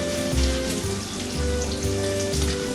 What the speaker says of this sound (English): All right, I'm hearing it sizzle.